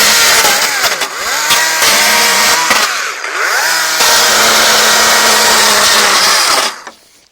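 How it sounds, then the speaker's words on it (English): A battery-powered electric chainsaw, charged from solar panels, cuts branches off a tree in loud, steady bursts of high motor whine that rise and dip between cuts, then winds down and stops near the end. "Now I'll just try and just trim all these branches off and see how long it takes us."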